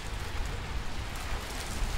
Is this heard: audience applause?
no